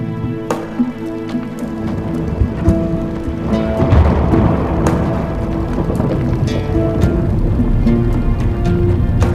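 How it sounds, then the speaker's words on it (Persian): Steady rain pours throughout while thunder rumbles and cracks loudly several times, close and heavy. "بارون میاد"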